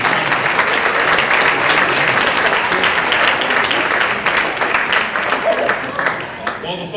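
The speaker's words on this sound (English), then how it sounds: "Let's give our judges another round of applause as well." An audience at a seniors' talent show claps for the judges, a sustained, full round of applause that gradually thins toward the end, with some talk beneath it.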